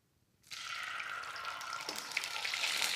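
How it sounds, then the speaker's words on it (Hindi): Ginger garlic paste hitting hot oil in a pan for chilli potatoes, bursting into a loud steady sizzle after a moment of quiet and holding strong throughout. "अब हम इसमें जिंजर गार्लिक पेस्ट डालेंगे।"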